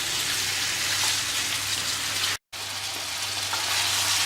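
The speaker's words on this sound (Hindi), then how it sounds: "ये प्याज में और घी के अंदर बढ़िया फ्राई हो गया है" Chicken frying with onions in ghee, a dense, close, rain-like sizzle that runs continuously apart from a brief total dropout midway, with a low steady hum beneath.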